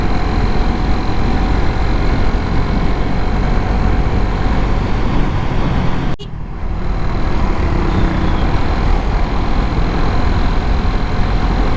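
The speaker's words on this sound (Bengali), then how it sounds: "এই যে একটা গ্রুপ আসলো, এক্সস্ট সিস্টেম লাগানো আছে বাইকগুলোতে" A group of motorcycles fitted with aftermarket exhaust systems arrives, a loud, steady engine roar holding throughout with a brief dip near the middle.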